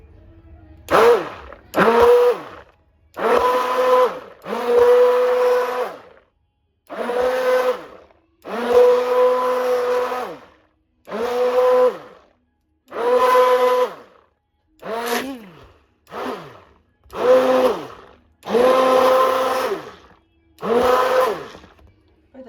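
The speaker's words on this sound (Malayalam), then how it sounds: "നമ്മൾ ഹാൻഡ് ബ്ലെൻഡർ വെച്ചിട്ട് നമ്മളിതൊന്ന് അടിച്ചെടുക്കുകയാണ്." Hand blender whirring through a mango ice cream mixture in about a dozen short, even pulses with brief pauses between them, loud and close.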